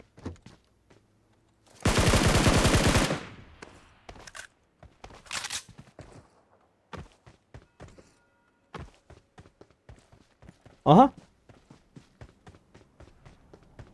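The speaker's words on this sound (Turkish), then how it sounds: "Orada birileri birilerine sıktı" Gunfire in PUBG Mobile: a loud sustained burst of shots, then scattered single shots and thumps with quiet gaps between them, plus one brief louder blast later on.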